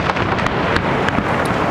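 A fireworks show at the 2010 Olympics produces a dense rumbling roar punctuated by several sharp distant bangs and crackles, with no speech.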